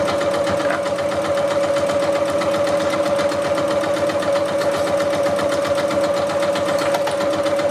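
A sewing machine stitching bias binding onto a mat, a fast continuous needle chatter with a steady motor whine, loud and close, running without pause.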